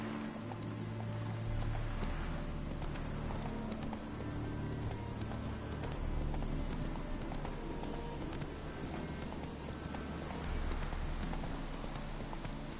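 Rhythmic clip-clop of a horse's hooves in The Witcher 3, steady and close, with the patter of rain and game ambience underneath throughout.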